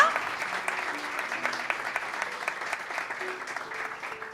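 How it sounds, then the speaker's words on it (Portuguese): A church congregation applauds in praise, a steady moderate patter of many hands with faint sustained tones of music or a voice beneath, holding even throughout. "Podem aplaudir ao Senhor"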